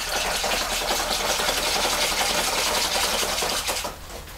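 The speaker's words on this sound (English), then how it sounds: "using one of these caterers type whisks, which I find very useful. They mix the ingredients well." A caterer's whisk beats pottery glaze in a bucket, giving a fast, continuous churning slosh with a rapid rhythmic beat that stops just before the end.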